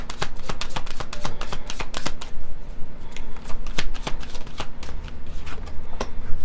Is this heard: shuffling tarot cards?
yes